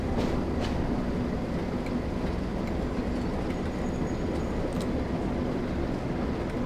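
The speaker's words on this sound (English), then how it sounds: "That's a big train coming in." A big train arriving in Train Sim World 4, a steady rumbling rail roll with faint wheel squeals and clicks, continuous and moderately loud without talk.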